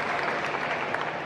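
An audience at a fan convention applauds steadily, a brief burst of dense, even clapping without distinct voices.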